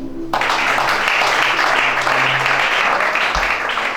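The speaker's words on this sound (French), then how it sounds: "Acclame chacun." A church congregation applauds loudly and steadily for several seconds during a French-language sermon, a dense wash of clapping that stays full throughout.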